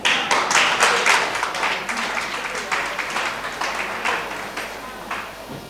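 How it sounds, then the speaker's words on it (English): An audience at a pageant event bursts into loud clapping that gradually eases but continues throughout, with a voice faintly audible beneath the applause. "a big round of applause for Phyllis"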